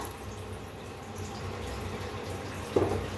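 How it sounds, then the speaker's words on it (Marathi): Hot water pours in a steady, close rushing stream into a pot of sambar, with a brief splash near the end. "आता ह्याच्यात गरम पाणी ओतूया."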